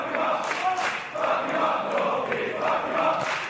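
A wrestling crowd at the Coronet in Elephant and Castle, London, cheers for the Coffey brothers in rising and falling waves of chanting and shouts, fairly loud and rhythmic, with a few brief surges.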